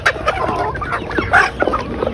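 Native desi chickens, sickly in harsh winter cold during an outbreak, cluck in loud, close, irregular bursts, several calls overlapping in quick succession.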